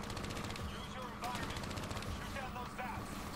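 Sustained gunfire in the Black Ops 3 campaign, dense rapid shots running throughout at a steady loud level, with a voice talking over the action.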